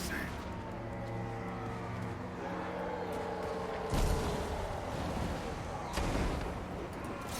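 Two heavy booming cannon shots from Chaos Dwarfs units in Total War: Warhammer II land a couple of seconds apart over a steady rumbling game soundtrack, with a voice talking faintly underneath.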